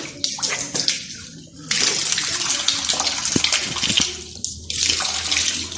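Water gushes steadily from a tap during ablution, with splashing and shifting flow as hands and mouth are rinsed under it. The sound stays close and continuous throughout.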